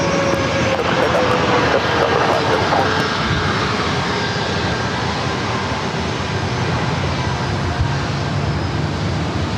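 A Southwest Boeing 737 MAX 8 roars through its takeoff roll at an airport, a loud broadband jet-engine rush holding steady, with brief faint clicks early on.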